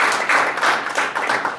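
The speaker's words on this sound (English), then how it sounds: "one final round of applause to our great speakers" An audience gives a final round of applause for speakers at a climate action planning meeting, a dense, fairly loud burst of clapping filling the short moment without a pause.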